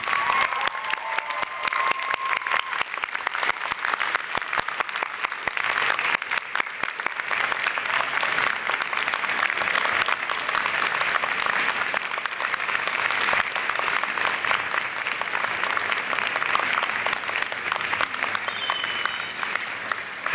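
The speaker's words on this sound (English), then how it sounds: "giving them a big round of applause" Big sustained audience applause rolls through a university convocation ceremony for parents, family and friends, dense and continuous for about twenty seconds, with a murmur of crowd noise beneath the clapping.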